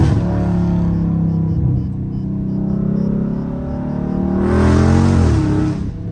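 A Dodge Charger Scat Pack with traction control off revs loudly, its engine droning and climbing in pitch, then a harsher burst near the end as the wheels spin; close and continuous, with no talk.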